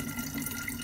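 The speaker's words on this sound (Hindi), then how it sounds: "जब ये बॉटल्स पानी की भर रही होती हैं" Tap water running steadily into plastic bottles being filled in a row at a sink, a continuous close, moderately loud rushing and splashing wash with no pauses.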